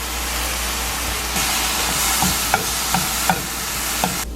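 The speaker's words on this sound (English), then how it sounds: "you can hear that sizzle" Cauliflower fried rice sizzles steadily in a hot pan, a constant crackling hiss with a few soft clinks from stirring.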